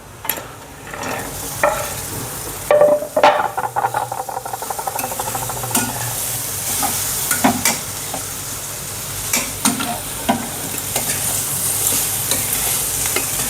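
Small fig fruits sizzle and fry with black masala in a pan, a steady hiss broken by clinks and scrapes of stirring, with a louder burst of sizzling and clatter early on.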